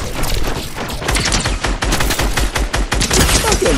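Rapid, loud gunfire in a shooter video game, a dense stream of shots nearly continuous across the clip with brief gaps, close and dominant.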